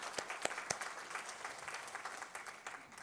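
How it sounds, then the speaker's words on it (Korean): Church congregation applauds elderly members during a Parents' Day Sunday worship service, a steady wash of many hands clapping with a few sharper claps standing out, moderately loud and continuous for three seconds. "건강하시라고 박수하겠습니다"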